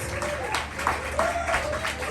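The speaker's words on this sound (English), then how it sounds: "Everybody give a big round of applause for Riley from Bad Hippie Motor Clothes." Studio audience clapping for a talk show guest, a dense, fairly loud round of applause with a voice or two mixed in.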